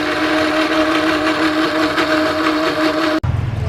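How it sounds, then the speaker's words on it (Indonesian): A kitchen blender runs steadily, grinding spice paste for a goat tetelan rendang, with a loud continuous motor whine that cuts off abruptly near the end. "jadi bumbunya aku akan haluskan ya sama blender karena aku males ngulek ya,"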